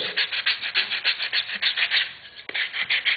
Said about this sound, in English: Then I'm going to take my sanding block